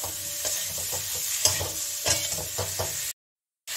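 Salt-boiled squash and potato go into a hot frying pan and are stirred, with a series of scraping, clattering strokes over a low sizzle, then a brief moment of silence.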